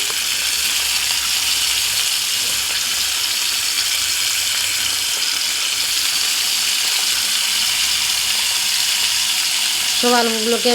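Potatoes frying in a pan before beaten egg goes on top, a loud, steady hiss and crackle of oil filling the whole stretch, with a brief voice near the end.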